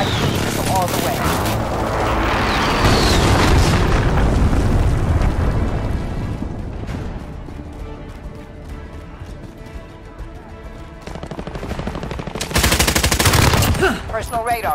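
Heavy explosions and rapid gunfire erupt in a video game battle as an allied cruise missile airstrike hits. Loud sustained blasts build and fade, then flare again, with voices speaking over the chaos.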